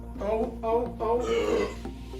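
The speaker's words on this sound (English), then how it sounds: "Need to burp." A burp from someone sampling low-calorie alcoholic drinks such as hard seltzer or gin and tonic, a voiced belch rising above background chatter, with a few short vocal bursts nearby.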